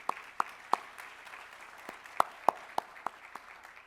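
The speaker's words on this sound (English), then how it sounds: "So let's give them a round of applause." Sparse, scattered clapping from a small conference keynote audience, with individual claps popping out unevenly over a soft room background.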